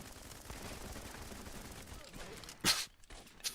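A loud sniper shot cracks in a first-person shooter over a busy bed of distant gunfire, followed by a second, smaller report near the end.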